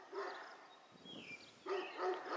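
Dogs scuffle next door in a territorial fight, giving off bursts of barking and yelping that sound somewhat distant and muffled, with a short quieter gap in between.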